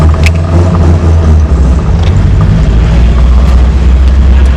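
Restored Ford Capri driving, heard as a loud, constant low engine drone and road rumble from inside the car, close and without talk.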